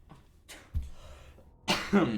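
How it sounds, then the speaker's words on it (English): A few faint coughs and throat noises, then a louder close cough near the end, with no talking. "Sorry about the coughing again."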